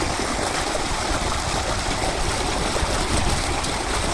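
A continuous rush of water flowing from a tubewell into a field, loud and close, pouring steadily without pause.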